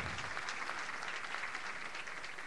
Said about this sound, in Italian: A loro va un grosso applauso